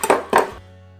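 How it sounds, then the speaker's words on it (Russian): An ostrich egg is cracked against a hard kitchen surface: two sharp, close knocks in quick succession, then a faint lingering ring. "Не без труда разбиваем малахитовое яйцо"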